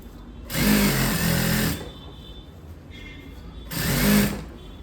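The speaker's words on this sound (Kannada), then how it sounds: "ಈಗ ಮತ್ತೆ ನಾವು ಸೈಡಲ್ಲಿ ಹೊಲಿಗೆ ಹಾಕೋಣ." An electric sewing machine stitching the side seam of a chudi lining, running in two steady whirring bursts with a short pause between them, close and fairly loud.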